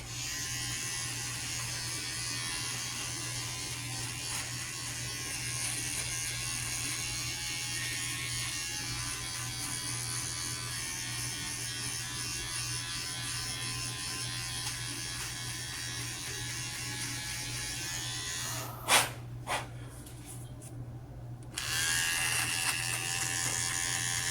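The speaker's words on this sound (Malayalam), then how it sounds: "നിങ്ങൾ ഓഫൺ ടൈംസ് ലൈക്ക് ഷേവ് ചെയ്യാനും ട്രിം ചെയ്യാനും ശ്രമിക്കുക" An electric trimmer shaves and trims a beard, its steady close-up motor buzz running continuously, briefly interrupted by a few clicks and handling noises near the end before resuming.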